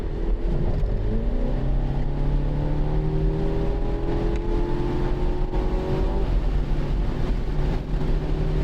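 A car speeds along the one-way Isle of Man TT Mountain Road. Its engine note climbs through rising gear pulls with steady road and wind noise, continuous and close, and nobody speaks.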